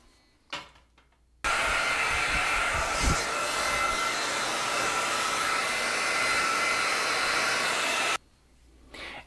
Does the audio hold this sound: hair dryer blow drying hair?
yes